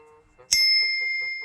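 A metal differential part from an Ursus C-360 tractor is struck once with a sharp hit, then rings with a bright, bell-like tone that sustains and slowly fades, close and loud.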